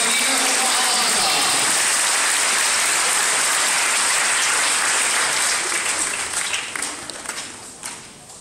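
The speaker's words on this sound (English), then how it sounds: "Please give a warm round of applause to the team" Sustained dense applause from an audience greeting a school team from Sekolah Menengah Saidina Umar Al-Hatta at a formal presentation, steady and loud throughout before gradually thinning out near the end.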